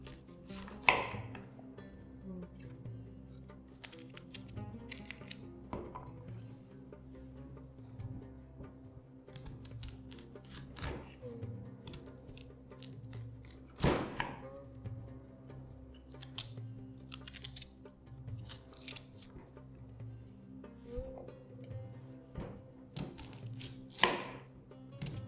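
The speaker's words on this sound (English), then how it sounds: "Next, slice the onions in the same way. Make sure the onion rings are thick" A knife cuts thick onion rings for a Moroccan vegetable tagine, a slow irregular series of crisp taps on a cutting board, some strikes louder, close up and without talk.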